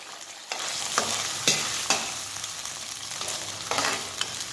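Canned fish stir-fried in a pan with garlic and shallots for a Thai chili dip, a continuous close sizzle punctuated by several sharp scrapes of the spatula, no talking.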